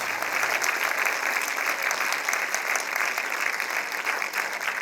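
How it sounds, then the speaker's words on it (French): Theatre audience applauding a stage performance at a festival, a full, even burst of many hands clapping that holds steady throughout, with no voices over it. "ils ont eu le droit à beaucoup d'applaudissements du public"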